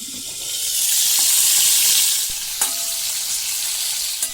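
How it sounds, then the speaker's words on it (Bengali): Crab pieces fry in hot oil for a spicy crab curry, a loud hissing sizzle that swells and then settles, with a few clacks as the pieces are turned over. "উল্টো পাল্টা করে 2 মিনিট ভেজে নিচ্ছি, বেশি ভাজতে হবে না।"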